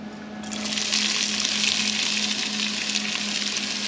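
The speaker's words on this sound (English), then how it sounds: "To test if your oil's ready to go, I threw an onion in there, it's starting to sizzle." One diced medium white onion sizzles in hot oil in a pan, a steady hissing fry that starts abruptly and continues evenly for several seconds at moderate loudness with no talking.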